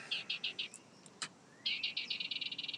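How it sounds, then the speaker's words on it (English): A bird nesting inside the mouth of a shark statue outdoors gives rapid, loud, high chirps in two fast bursts with a short pause between them, heard close and alone. "Now that bird is mad."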